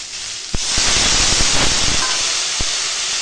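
Water poured onto hot spiced soybean, potato and tomato in a pan bursts into a loud, close hissing steam sizzle that holds steady, with a few sharp clinks of a utensil.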